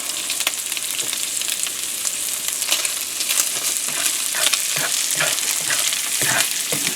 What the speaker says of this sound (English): this is also the time that I'm going to put in my mushroom and fry it up just a little bit